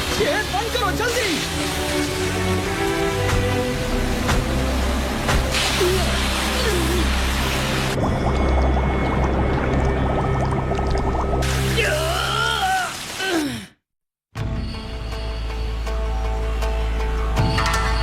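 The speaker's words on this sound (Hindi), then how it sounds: "पानी अंदर आ रहा है।" Cartoon scene of water rushing into a ship: loud pouring and sloshing that mixes with music and effects, briefly cuts out, then resumes.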